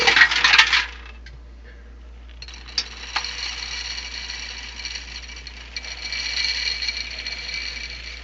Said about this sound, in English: I'll just fill the hopper up